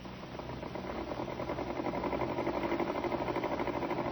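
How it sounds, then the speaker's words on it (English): A sewing machine runs continuously, its rhythmic mechanical whir building slightly and then holding steady on a muffled, low-fidelity old recording. "Miss Winthrop, you heard the sewing machine just now."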